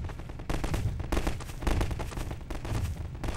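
Rapid bursts of gunfire in Half-Life 2 Episode 2, near and loud, with repeated cracking volleys in quick succession and no voices over them.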